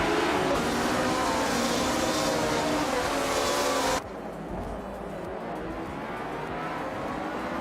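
Racing engines of a 1965 Ferrari 1512 in a racing video game, a loud continuous high-revving roar that drops abruptly in pitch and level midway, like a shift or change of view, with no voices.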